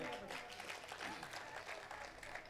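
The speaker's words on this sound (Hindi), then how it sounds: "जोरदार तालियां बजाएं।" Audience clapping at a Hindi-Urdu poetry recitation (mushaira), a steady moderate round of applause lasting a couple of seconds with some voices mixed in.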